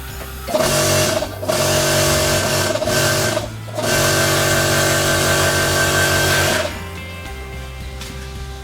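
An air compressor motor drones loudly and steadily beside a Honda CB125T motorcycle tire while its bead is being seated. The hum cuts out briefly twice, runs on, then drops to a quieter hum near the end.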